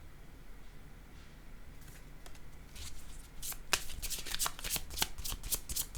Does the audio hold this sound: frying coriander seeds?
no